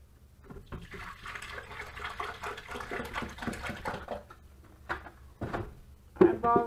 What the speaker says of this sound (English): Add all the water.